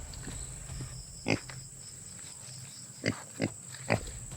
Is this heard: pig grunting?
yes